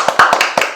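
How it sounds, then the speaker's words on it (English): Hands clapping at an event, several quick loud claps in an uneven burst, close and alone without talk. "And clap"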